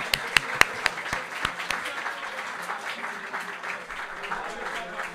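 At a live gaming event, an audience applauds half-heartedly, opening with a few sharp, distinct claps up close before settling into a thin, fairly quiet patter of scattered clapping.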